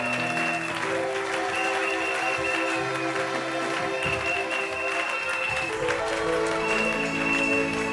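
A church congregation at a Sunday service claps and cheers steadily for Jesus, dense sustained applause filling the room alongside music, with no clear pauses.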